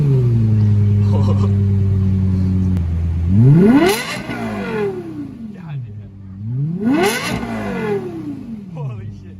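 An Audi R8 V10 engine idles steadily, then revs sharply twice, climbing to a loud high-pitched howl and dropping back each time, close and powerful.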